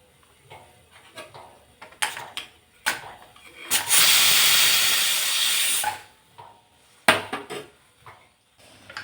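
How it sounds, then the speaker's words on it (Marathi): Steam hisses loudly and steadily for about two seconds as a kitchen pressure cooker of dal is vented after three whistles, framed by faint clinks and knocks of handling before and after. "एक कुकरमधली छान अशी सर्व वाफ काढून घ्यायची"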